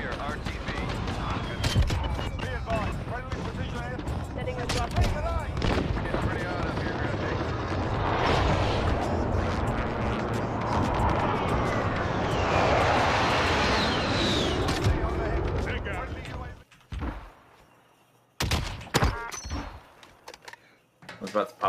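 Gunfire in Call of Duty Modern Warfare on PC: sharp shots and bursts, some near and some farther off, over a constant rotor-like roar of aircraft. A player's voice talks over it, and a few isolated cracks follow near the end.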